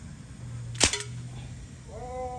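A single sharp gunshot cracks out, short and loud, followed by a brief echo and quiet background.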